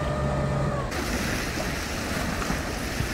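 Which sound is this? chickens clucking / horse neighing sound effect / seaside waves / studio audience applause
seaside waves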